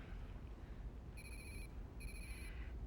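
A doorbell in a science-fiction TV drama gives two short, bright electronic rings about a second apart over a quiet room hum, with no voices.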